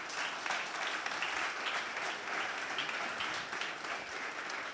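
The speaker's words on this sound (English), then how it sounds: "just one more round of applause?" An audience at an evening nanotechnology talk gives another round of applause for three guest speakers, a steady dense patter of many hands clapping throughout, somewhat distant and even.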